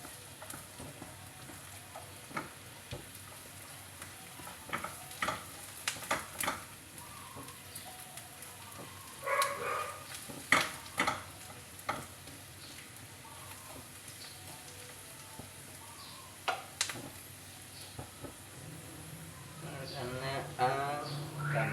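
Garlic sizzles quietly in a pan for a mung bean dish, with intermittent stirring clatters and scrapes while a person talks now and then.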